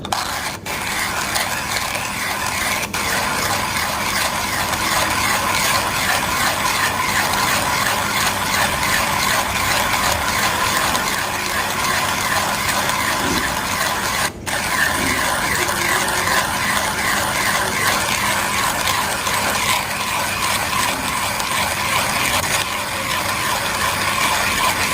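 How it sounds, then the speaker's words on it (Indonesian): A coffee grinder grinds coffee beans in a loud, continuous mechanical whir with a ratcheting rattle, steady and close throughout. "Kita akan giling dulu."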